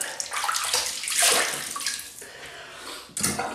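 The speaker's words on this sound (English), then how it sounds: "wet the old face." Tap water runs and splashes up close in a sink as a face is wetted before a shave with a slant bar double-edge razor, a steady gush with shifting splashes and no talking.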